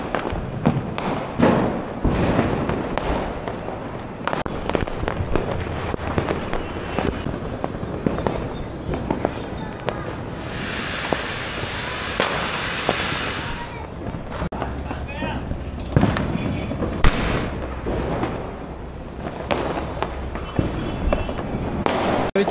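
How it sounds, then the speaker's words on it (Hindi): Diwali firecrackers and fireworks burst all around a rooftop in Nanded, with dense, repeated sharp bangs and thuds at varying distances filling the whole stretch, some crackling volleys overlapping and a brief hissing burst midway. "चारों तरफ फटाके फूटा स्टार्ट हो गए हैं"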